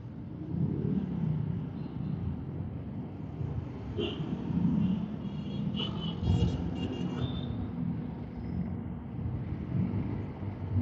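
Road traffic heard from inside a car in the Philippines, a steady low rumble of engine and tyres with passing vehicles, continuous and moderately loud throughout, no talk.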